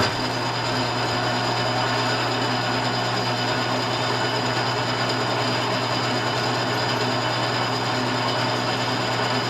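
Constant mechanical whir and whine of a milling machine running steadily, loud and close, with no pauses.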